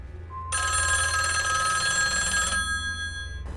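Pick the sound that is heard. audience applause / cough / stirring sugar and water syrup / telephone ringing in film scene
telephone ringing in film scene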